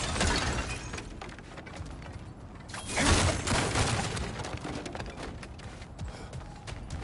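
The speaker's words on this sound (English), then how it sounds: "back to smashing through things for fun and profit" Objects smashed apart in God of War Ragnarok, a dense run of crunching, shattering impacts with a heavier burst of breaking debris around the middle, continuing as scattered rubble clatter afterward.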